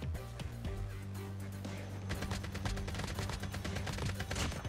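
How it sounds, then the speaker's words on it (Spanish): Video game gunfire from Call of Duty Mobile, with rapid bursts of automatic shots that build into dense, continuous firing, loud and alone without talk. "Y por ahí disparos."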